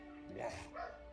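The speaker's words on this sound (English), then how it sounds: "Sorry about my dogs again. I don't know how that's messing up the audio." Indoors, a dog gives a couple of short, soft yips and whimpering barks, faint and close.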